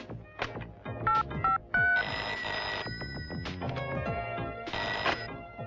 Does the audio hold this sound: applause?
no